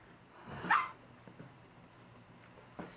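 A single sharp dog bark rings out close by, followed by a few faint softer sounds and a quieter yip near the end.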